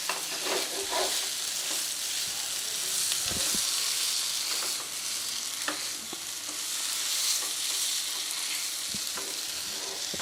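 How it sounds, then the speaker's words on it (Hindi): Boiled mashed potato sandwich filling being stirred and mixed with tomato ketchup in a bowl, a steady close wet squishing and scraping with brief clicks of the spoon, continuous for the whole stretch with no voices. "केचप डालने इसके ऊपर, अच्छी तरह इसको मिक्स कर लें"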